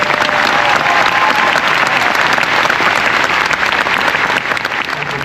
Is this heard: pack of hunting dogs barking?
no